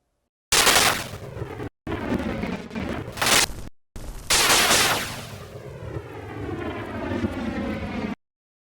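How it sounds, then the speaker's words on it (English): Rocket launch effects built in Adobe Animate: three bursts of roaring, hissing thrust, the last swelling into a long sweeping whoosh that fades away, loud and close with no talk. "Now I'll just repeat the sounds for the next 3 rockets."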